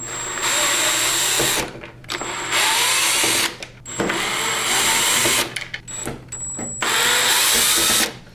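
Power driver unscrewing the bottom plate screws of a Prolux CTX vacuum, in several loud close whirring bursts of about one to two seconds each, separated by short pauses.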